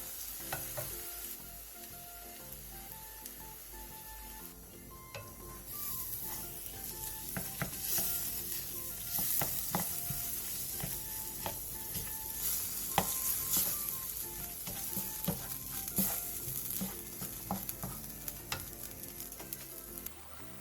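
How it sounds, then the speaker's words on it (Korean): Vegetables stir-fried with doenjang and gochujang in a pan sizzle steadily, with a spatula scraping and stirring in irregular strokes, close and continuous without talk. "2분 정도 볶아주세요"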